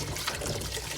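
Water poured into a cooking pot while making a Cretan vegan askordoulakoi dish, a continuous loud splashing gush close by.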